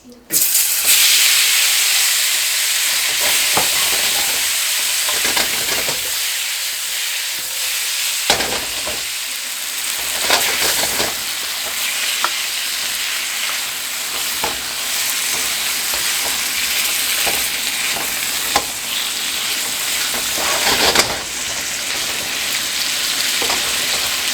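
Shrimp fry in sesame oil with a loud, steady sizzle while a utensil scrapes and stirs in the pan now and then, close and continuous with no speech.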